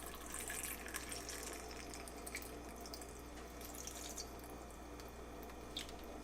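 Water is poured into a Ninja Fit personal blender cup holding torn kale leaves and a couple of ice cubes, giving a steady, continuous trickling splash close by.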